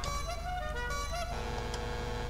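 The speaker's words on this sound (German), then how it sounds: "Ich könnte eine LKW-Hupe reinbauen." A truck air horn fitted to a motorbike in GTA V blares as a loud, sustained, multi-tone honk, its pitch shifting slightly partway through, with no speech over it.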